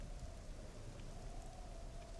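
Steady rain pours across the Downpour map in Call of Duty 4: Modern Warfare Remastered, a dense, even hiss of falling water with a faint low rumble beneath, continuous throughout with no voices.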